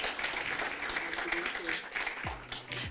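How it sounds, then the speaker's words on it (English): Crowd applause rolls steadily at the Southeast Asia MIKE Awards 2022 for a Gold Award winner, a broad wash of clapping heard beneath a speaking voice. "Please give a big round of applause."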